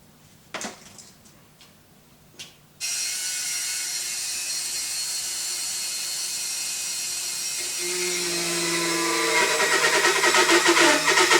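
A high-pitched power tool whines loudly and continuously while cutting slots into a motorcycle handlebar camera mount, its pitch rising as it bites into the material, after a few quiet clicks and knocks of setup.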